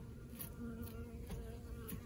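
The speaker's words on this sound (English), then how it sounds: "So these bees stayed over here with this brood." Honeybees buzz steadily around brood comb in a long Langstroth hive, a continuous close, even drone with no voices.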